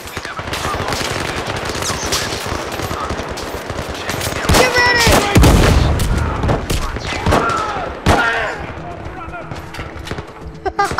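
Video game gunfire: rapid bursts of automatic shots and single cracks, loud and close, mixed with shouting voices and mid-clip impacts.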